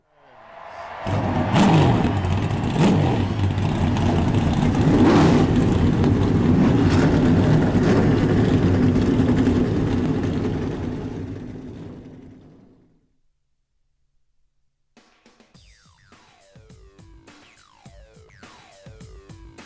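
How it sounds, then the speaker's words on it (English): Race car engines fire up and roar together in an eNASCAR iRacing game at Circuit of the Americas, a loud dense rumble lasting about twelve seconds before cutting out, followed by quieter, fainter engine revving. "Drivers, start your engines."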